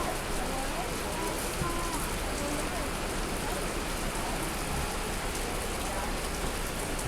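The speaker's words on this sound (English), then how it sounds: "I think the rain set in." Rain falls steadily on a Saturday morning, a dense, even hiss of drops on surfaces that stays constant throughout, with faint talk mixed in.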